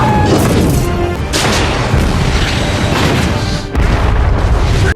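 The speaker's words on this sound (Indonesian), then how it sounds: "Akhirnya pesawat itu jatuh dan meledak." A massive aircraft crash and explosion from the film Avatar (2009) roars continuously, dense and loud, with a brief dip before a second heavy blast near the end.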